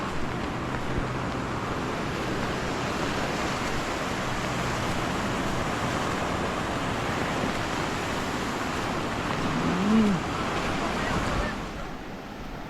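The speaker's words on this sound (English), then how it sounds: "See some big waves out there," Big ocean waves on the shore of eastern St. Thomas during Tropical Storm Rafael, a steady heavy roar of surf mixed with wind, briefly swelling then easing near the end.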